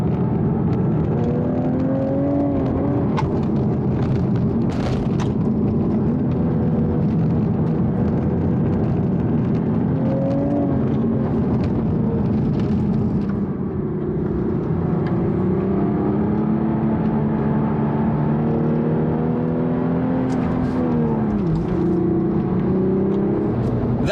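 Toyota Supra A90 with a manual gearbox driving along a road, its engine note droning steadily and rising and falling through gear changes and revs, loud and close throughout with no talking.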